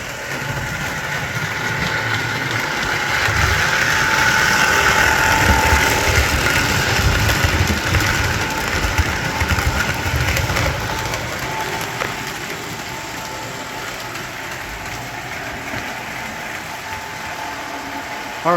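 A 671R model train locomotive runs continuously with an odd, uneven motor noise, a steady buzzing hum that swells slightly and then settles a little quieter for the rest of the run.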